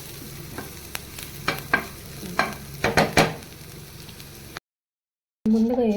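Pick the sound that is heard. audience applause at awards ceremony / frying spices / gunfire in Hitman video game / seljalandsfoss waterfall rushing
frying spices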